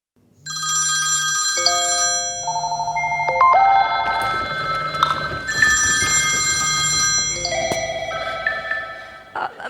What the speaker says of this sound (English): My cell phone rang at my desk